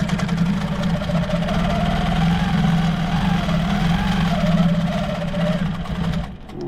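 A sewing machine runs steadily, quilting the outer edge of a June Tailor shopping tote, its continuous mid-pitched motor drone lasting nearly seven seconds before cutting off near the end, with no talk over it.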